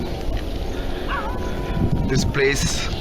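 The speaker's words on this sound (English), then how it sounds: "dogs start barking like crazy at a distance" Dogs bark in the distance, a few scattered barks mixed with voices talking nearby over a constant background rumble.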